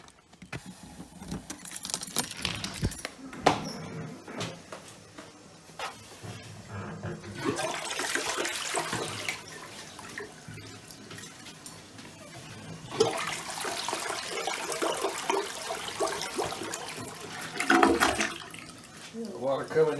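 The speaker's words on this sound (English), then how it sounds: "let's go ahead and turn the hose on for a while" Water from a garden hose runs into a tank, a steady splashing, hissing flow that swells and fades over about twenty seconds, with some clanking and handling noises close by.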